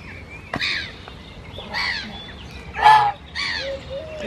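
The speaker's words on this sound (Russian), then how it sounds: "Гуси, да." Several honking geese calls ring out one after another in the Czech Republic, moderately loud and fairly near, over a low background rumble.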